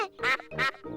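A cartoon duck on a pond gives three loud, close nasal quacks in quick succession.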